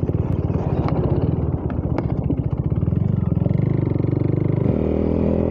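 A modified, full-power motorcycle with knuckle guards rides along a highway, its engine a loud, close, throbbing pulse that rises in pitch as it accelerates, with no talking.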